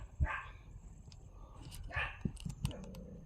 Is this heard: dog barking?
yes